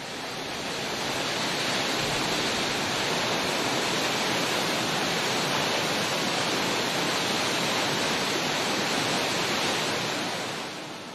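A sacred waterfall in Kumano, Japan pours in a steady, dense roar of rushing water that fills the whole clip without pause, with no voices.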